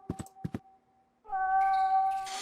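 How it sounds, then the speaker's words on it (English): A cat meows inside the horror adventure game The Last Door: a few short, soft calls first, then a longer, louder drawn-out meow with a tonal, wavering pitch rising over a dark, muffled background. "Oh, it's a meow."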